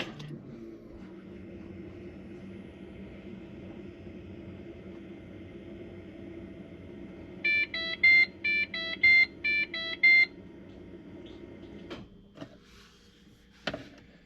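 A car's electric fuel pump primes as the ignition is cycled after fuel system repair: a steady low whir under a faint hum, then several short, sharp repeated clicks and buzzes, followed by a couple of isolated knocks.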